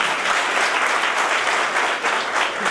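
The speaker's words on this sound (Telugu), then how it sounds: "ఇప్పుడు మాత్రం గట్టిగా చప్పట్లు కొట్టాలని మీరు కోరుతా ఉన్నాం" Dense, steady applause from an audience at an Arya Vysya officials and professionals association merit awards ceremony, a continuous wash of many hands clapping with no break.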